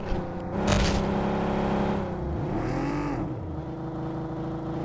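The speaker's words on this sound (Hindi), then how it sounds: "तो मैं फटाफट से यहाँ से अपनी गाड़ी उठाता हूँ और उसी साइड चला जाता हूँ" A vehicle in PUBG Mobile starts and drives off, a whirring engine rising and revving with pitch sweeps as it accelerates away, loud and close with no talk.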